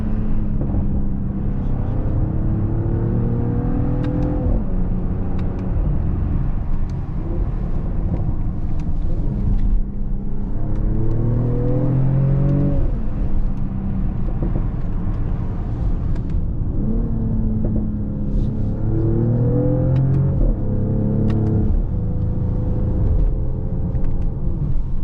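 A 2022 Mercedes GLE 53 AMG Coupé in Sport Plus mode drones under load, its engine note rising through gear changes with a steady low exhaust rumble filling the cabin; individual crackles are not clearly picked out.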